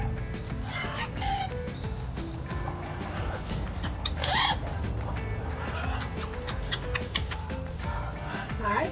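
Parrots at a beach-side shop on Anna Maria Island, Florida, let out scattered squawks and chirps amid ticking and background chatter, moderately close with people talking.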